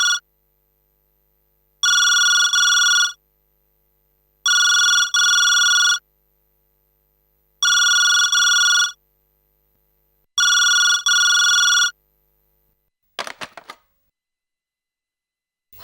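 A telephone ringtone sounds in five evenly spaced electronic bursts of about a second each with pauses between, loud and close, followed by a brief clatter at the end; no speech.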